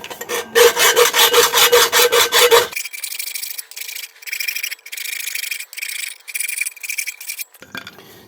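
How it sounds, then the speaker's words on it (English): A half round file rasps against the inside of a metal exhaust tube on a turbo Hayabusa build, strokes heavy and rapid at first, then a lighter, steady series of scraping passes, close and alone. "Deburr the inside with a half round file."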